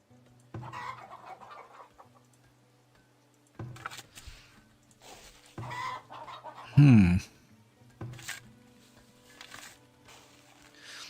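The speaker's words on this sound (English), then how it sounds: "Oh, we got chickens." Chickens cluck in the Farthest Frontier video game, several short bursts of clucking and squawks spaced over the stretch, one louder call in the middle, between quiet gaps.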